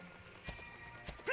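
Horse hooves clop twice, soft and evenly spaced, in the Dragon Quest 8 video game, ending with a brief louder whinny-like sound at the very end, faint overall with no talking.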